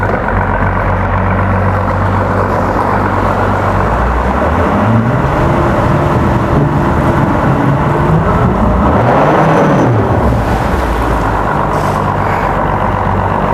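A 2007 Evinrude E-TEC 225 HP outboard boat motor runs loud and close, its droning pitch climbing and falling as it revs up and then drops back down.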